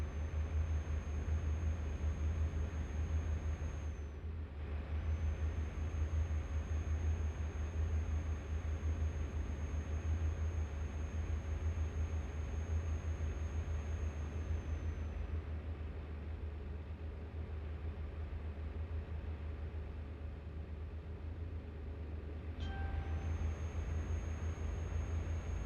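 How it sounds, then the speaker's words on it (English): A steady, helicopter-like rumble in the American Truck Simulator driving game, with a heavy low drone and a faint high whine running continuously and loud for the whole stretch, no voices. "Sounded like a helicopter again there."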